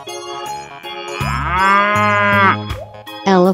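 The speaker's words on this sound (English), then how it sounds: "Cow." A cow moos loudly in a long, drawn-out, tonal call that lasts a couple of seconds, with a few shorter bursts of sound before and after it.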